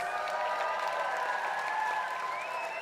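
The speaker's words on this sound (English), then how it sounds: "Give them a big round of applause." Concert crowd at Shepherd's Bush Empire applauds the band returning to the stage, a dense, steady wash of clapping with light cheering throughout.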